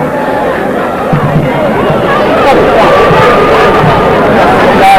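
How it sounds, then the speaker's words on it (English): Dense crowd chatter fills the stands at a 1994 Hackensack versus Nutley high school football game, a steady babble of many voices heard close and continuous throughout. "Nice crowd in attendance, Rob."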